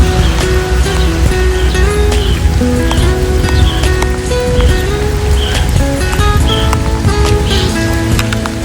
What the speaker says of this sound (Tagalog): inabutan na naman po kami ng ulan sa biyahe